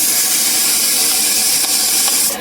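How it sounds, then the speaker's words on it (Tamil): A pressure cooker on a home kitchen stove releasing steam, a loud continuous bright hiss filling the whole moment, fading slightly at the end. "3 விசில் வந்துருச்சு."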